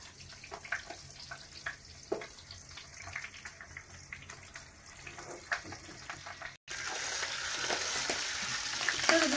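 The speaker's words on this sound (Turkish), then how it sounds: "Böyle patlıcanları az yağda çıkarttım" Eggplants frying in a little oil, with crackling pops and spits at first, then after a brief break a louder, steadier close sizzle fills the rest.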